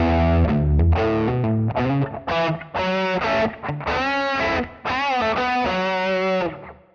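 Electric guitar through the drive block of a Fractal Audio Axe FX with LED clipping diodes, loud sustained distorted chords and notes ringing continuously with brief dips between phrases, no talking.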